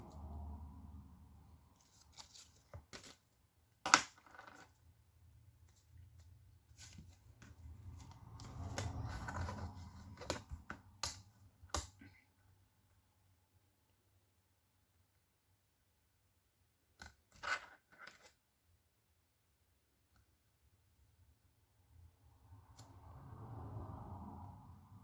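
Sharp snipping and crisp cuts through scrapbooking paper made diagonally with a paper trimmer or scissors, arriving as scattered quick clicks in a couple of clusters, faint and close, with soft rustling between cuts.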